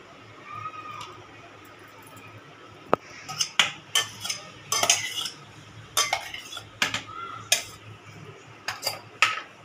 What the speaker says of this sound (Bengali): এবার মিক্স করে নিচ্ছি আমটাকে দিয়ে